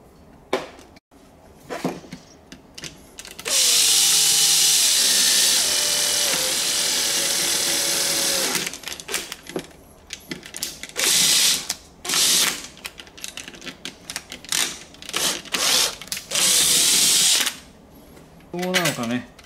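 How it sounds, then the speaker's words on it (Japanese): Drill boring screw holes while mounting a neck-worn smartphone holder, a loud sustained whir of about five seconds followed by shorter on-off bursts and ratcheting, with someone talking in between. "ネジ、穴開けちゃいましょう。"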